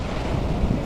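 Beach surf at a Punta Cana resort washes in as a steady broadband roar, mixed with wind buffeting the microphone, continuous and fairly loud with no voices.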